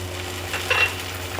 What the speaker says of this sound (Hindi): नाजरीन, प्याज हमारे जो गोल्डन फ्राई हो चुके हैं, तो अब मैं इसमें लहसुन अदरक जो चॉप किया हुआ रखा हुआ है ये डाल देती हूँ।